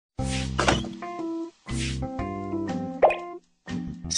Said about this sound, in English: If burn area is large, you can submerge burn area in cold water for 10 to 30 minutes.